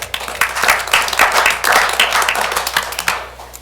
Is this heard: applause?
yes